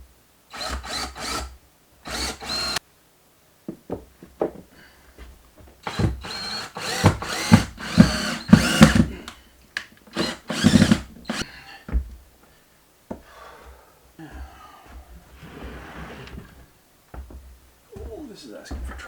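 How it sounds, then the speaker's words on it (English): A power drill bores a hole through plywood during a cabin cupboard install, several loud whirring bursts of drilling broken by short pauses, with a voice talking in between. "It means putting another hole in my plywood"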